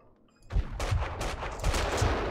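Several gunshots go off in Max Payne 2: The Fall of Max Payne, about four or five loud, punchy bangs in quick succession after a quiet moment.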